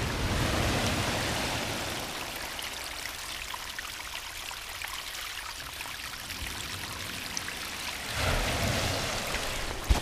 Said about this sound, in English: You see all the water coming out the cliff there.